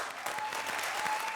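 Studio audience applauding a couple on a Comedy Circus stage, a short burst of dense, steady clapping that stays even throughout with no voices over it.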